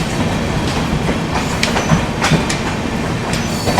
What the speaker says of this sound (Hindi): दानापुर रेलवे स्टेशन निकलते ही ये चल रहा है पैरेलल किसी गाड़ी के साथ में